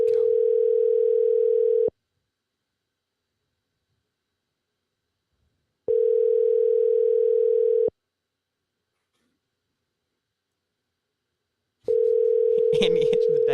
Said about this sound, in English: answer the dang iPhone